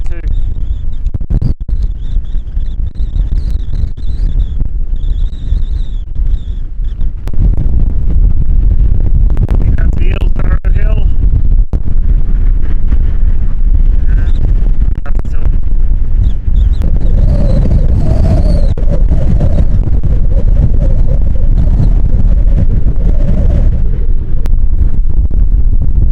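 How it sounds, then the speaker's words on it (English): Strong wind buffeting the microphone on Sheepstor, a Dartmoor hilltop tor, a loud continuous roar that gusts harder midway, with a voice speaking at times. "Extremely windy up here on Sheepstor"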